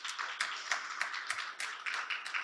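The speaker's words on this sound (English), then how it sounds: "So I'd just like to ask that everyone give them a big round of applause" A crowd claps together for about two and a half seconds, a steady dense patter of many hands with no talk over it.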